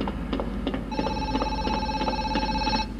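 A telephone ringing in the video game Zoochosis, a steady electronic ring tone that sustains for about two seconds over a low background hum and faint clicks, with no talk.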